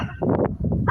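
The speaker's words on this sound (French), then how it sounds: "Elle a peur des chiens, elle aboie." A dog named Bella gives a short, close bark of two quick yaps run together, loud and sharp, ending in a brief high whine.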